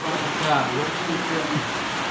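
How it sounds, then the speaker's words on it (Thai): Steady rain falling outdoors, a dense, even hiss of pattering drops close by with no pauses. "ตอนนี้ฝนตก"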